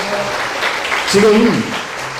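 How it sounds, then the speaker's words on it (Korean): An audience claps at a church prayer meeting marking the March 1st Independence Movement anniversary, a brief, moderately loud swell of hands under someone speaking over a microphone. "박수로 맞아주시죠."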